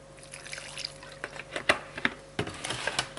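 Apple cider vinegar trickling into a pork marinade with tamari sauce, a short, faint pour with soft drips and splashes heard up close.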